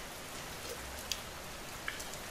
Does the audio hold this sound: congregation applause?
no